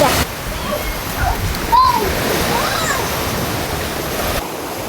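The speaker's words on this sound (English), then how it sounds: "They crash into the rocks and then the waves go everywhere." Sea waves crash into rocks on a Belitung Island shore, a loud, close, continuous surf roar with a brief louder splash partway through.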